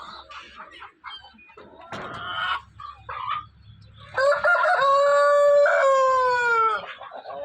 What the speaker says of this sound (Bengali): এই যে এগুলো মোরগ।